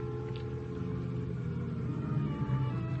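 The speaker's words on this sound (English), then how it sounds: "Then I hear a car outside." A car rumbles outside as a radio drama sound effect, a steady low engine drone that holds at an even level throughout, heard alone without voices.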